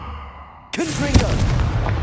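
A Confringo fire spell bursts with a sudden fiery boom in the Hogwarts Legacy video game, a single loud blast followed by a brief rumbling tail and a faint voice-like sound.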